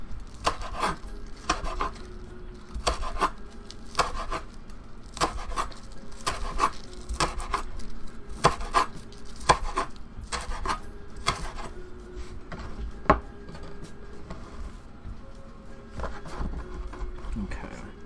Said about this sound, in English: We have our chives chopped, but I'm going to chop them a little bit more